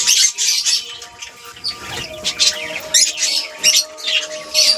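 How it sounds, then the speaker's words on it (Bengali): Domestic pigeons loose in a yard peck at spilled rice grain, with scattered bird calls, rustling and wing movement close by over a faint steady background tone. "আর এখানে আমাদের বাকি পায়রাগুলো ছাড়া আছে।"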